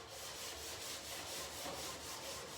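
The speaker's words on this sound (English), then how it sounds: "And just kind of scrub it good." A Scotch-Brite pad scrubs a cabinet clean, giving a steady, fairly faint rubbing with a quick back-and-forth rhythm that runs on without pause.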